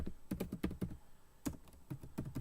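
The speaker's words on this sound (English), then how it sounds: "Let me just type this in real quick." Quick bursts of typing on a computer keyboard, irregular clusters of keystrokes at close range with short pauses between them, no talking.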